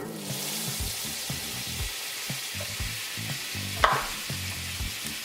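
Butter melts into leftover sausage grease in a frying pan for fried rice, giving a steady close sizzle with soft crackles and one brief clink of a utensil partway through.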